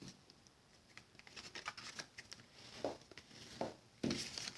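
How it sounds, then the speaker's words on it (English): Thick Whisper White cardstock being folded on a center line gives soft papery rustles and several sharp crisp creases, close and quiet, with no speech. "So we will fold on the center line first."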